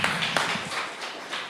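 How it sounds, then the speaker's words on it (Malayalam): A short burst of audience clapping at a motivational talk, with loose, fairly close claps rising and falling over a second and a half. "നല്ലൊരു ക്ലാപ്പ് കൊടുത്തോ."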